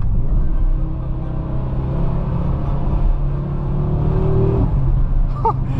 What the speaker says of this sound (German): Also das Turbo-Geräusch gleicht zumindest so ein bisschen den fehlenden Auspuff-Sound auf jeden Fall aus.